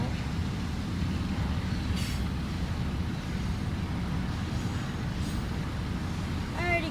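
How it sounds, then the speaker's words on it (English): A CSX intermodal freight train's diesel locomotive heard up close, its engine running rough with a constant low rumble and drone, with a couple of faint squeaks and a brief high sound at the end. "Does that engine sound like it's running rough?"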